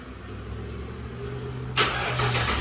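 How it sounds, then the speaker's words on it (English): A Dodge Charger RT engine cold-starts close by: a low hum, then a sudden loud crank and catch into a rumbling idle that continues to the end, with no talk. "Here go our cold start."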